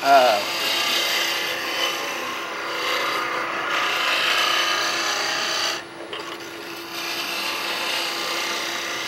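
Wood turning on a lathe with a roughing gouge, worked slowly: a continuous close rasping hiss of the tool shaving the spinning wood, with a brief dip near the end before it resumes.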